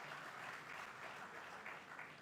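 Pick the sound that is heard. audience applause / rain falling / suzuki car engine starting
audience applause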